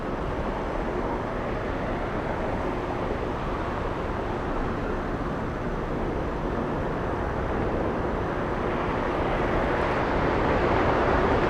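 Delta Airlines Airbus A350 airliner, flight 188 from Seoul, flying in to land at Atlanta Hartsfield-Jackson, a distant broad steady jet roar that swells gradually toward the end.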